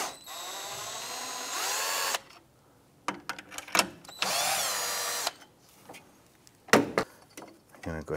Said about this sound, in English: We're gonna use our 10mm deep socket to loosen the nuts on our J hooks